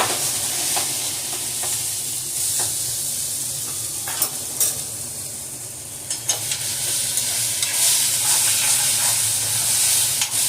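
Okra and tomato sauté in a hot pan with a steady close sizzle and hiss, broken by several sharp scrapes and clinks of stirring, with no voices.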